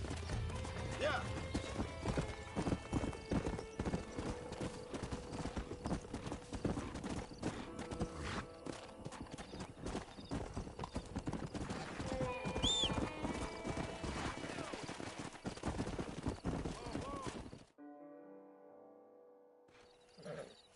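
Horse hooves clip-clopping in the Western video game Red Dead Redemption, a busy stream of hoofbeats with whinnies and a shout-like call over music and ambience, ending in a quieter tail.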